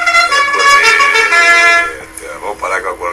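A horn sounded inside a radio studio blares loudly and steadily for about two seconds, then cuts off as people begin talking.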